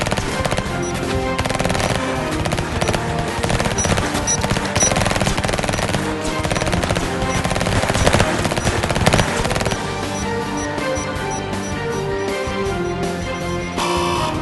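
Dense, continuous automatic gunfire rattles nonstop in a shootout between SWAT officers and heavily armed bank robbers in the game Emergency (2023), loud and relentless with overlapping bursts and no pauses.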